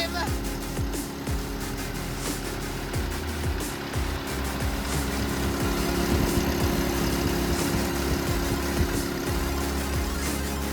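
A Genie lift's freshly swapped engine idles steadily at close range, a continuous low rumble with mechanical rattle and vibration running the whole time and faint talk in the background.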